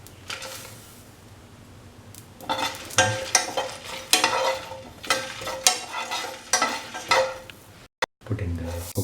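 Red chillies sizzle in a hot pan while being stirred, with repeated scraping strokes and bursts of frying crackle building after a quieter start, close and fairly loud, while cooking an onion and roasted coconut stew.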